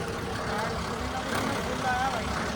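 A tractor engine runs outdoors with an unmodified cylinder, a steady low rumbling idle throughout with faint bird calls over it.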